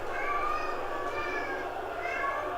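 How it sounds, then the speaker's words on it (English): A house cat cries out with a drawn-out, wavering meow close to the microphone, sustained across the whole moment over a steady background hum. "my cat's crying"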